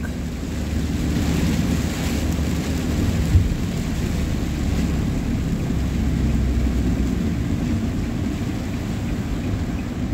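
Strong rain falls with gusting wind on a coastal road in Al Khor, Qatar. A dense, steady roar with a heavy low rumble fills the whole stretch without pause.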